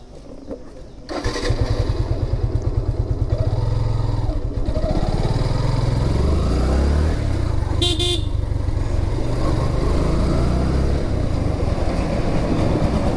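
A motorcycle engine starts about a second in and then runs loud and steady while riding, its throbbing drone filling the rest of the clip on a muddy rural road in Tungipara.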